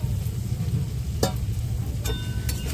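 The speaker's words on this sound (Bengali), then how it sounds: "এখন এই ভেজে রাখা ফুলকপিটা দিয়ে দেবো" Fried cauliflower goes into hot, oil-rich masala in a pan, giving a steady close sizzle with a few sharp scraping stir clicks from a spoon against the pan.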